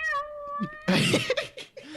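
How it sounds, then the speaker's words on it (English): Several cat meows spliced together into a single long call: a clear tonal meow first, then a louder, rougher caterwauling burst breaking into shorter wavering cries, close and alone. "Which is actually 5 separate meows put together into one meow."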